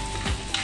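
Mushrooms sizzle in a hot pan where beef and garlic were just cooked, giving a short, steady frying hiss with a slight surge midway.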